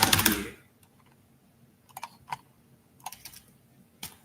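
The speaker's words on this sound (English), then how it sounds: "Yes, more keyboard sound." Sparse, light taps on a computer keyboard during a live stream, a loud burst of noise at the start and then a few separate clicks spread across the rest, close and fairly quiet with no talking.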